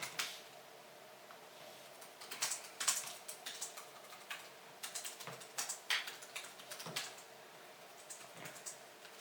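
Fingers typing on a computer keyboard in a quiet room, a quick run of soft, irregular clicks with brief pauses between bursts.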